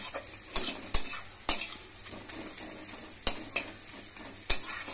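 Pieces of bata fish fry in a pan for a Bengali bata macher jhal, a soft sizzle punctuated by several sharp metallic clanks and scrapes of a spatula against the pan at irregular intervals, nearby, with no speech.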